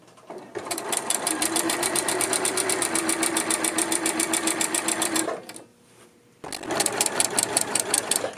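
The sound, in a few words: sewing machine stitching a hem in fabric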